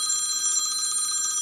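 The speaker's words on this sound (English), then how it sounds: "There's the phone again." A telephone ringing with a steady, bright metallic bell tone that runs unbroken and fairly loud, with no voices.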